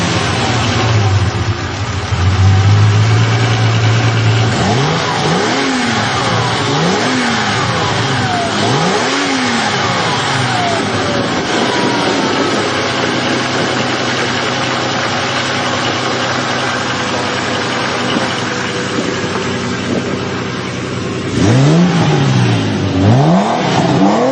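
A Ferrari 400i with a five-speed gearbox runs and revs on a test drive, its engine held in a steady loud drone with repeated rising and falling sweeps as it accelerates through the gears.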